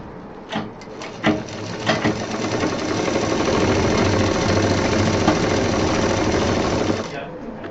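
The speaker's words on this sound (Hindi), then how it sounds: "पूरा ऊपर तक इसको हम सिल देंगे।" A sewing machine stitches a handbag, running steadily and loud for several seconds after a few short starting bursts, then stopping abruptly.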